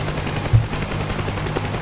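A Huey helicopter in the DCS combat flight game whirs steadily at close range, a continuous rotor and turbine drone with a soft thump early on.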